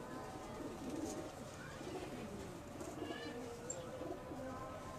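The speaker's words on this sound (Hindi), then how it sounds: "ये कबूतर है मेरा टैडी, डिंगी चूंज वाला, टेढ़ी चूंज वाला जिसे बोलते हैं" A pigeon named Teddy, with a crooked beak and light red eyes, coos in soft, low repeated phrases over a faint outdoor background.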